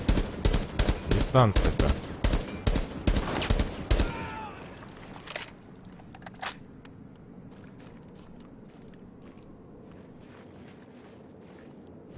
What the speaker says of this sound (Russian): Куда ж ты с дробаша стреляешь, а?